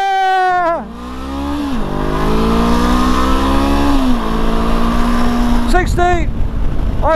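A 2023 Honda CB500X motorcycle fitted with a 16-tooth front sprocket accelerates hard on the road. Its engine note climbs loudly and close, dropping briefly at each gear change before rising again.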